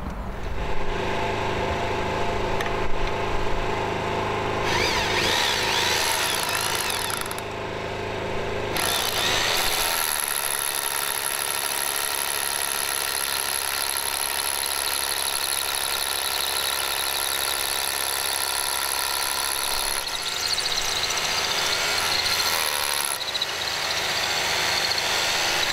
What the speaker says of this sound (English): the first thing that we'll have to do obviously is turn the generator on